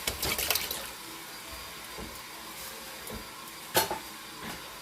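Whole peeled tomatoes being poured into a pan for meatless lasagna rolls, a soft wet slop and splatter at the start, then quieter bursts of liquid sloshing, close and moderately faint.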